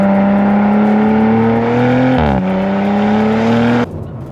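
Audi RS4 Competition estate with a 2.9 litre twin-turbo V6, a loud steady engine drone held near, rising slightly in pitch as it pulls, with a brief dip around a gear change before the note drops away sharply at the end.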